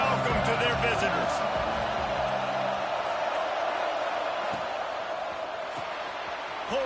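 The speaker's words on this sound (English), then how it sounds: "This crowd bringing an ear-splitting welcome to their visitors." A steady, loud stadium crowd roars throughout a Baylor versus Clemson matchup in an NCAA football video game, a dense wash of noise with some low rumble early on and no clear breaks.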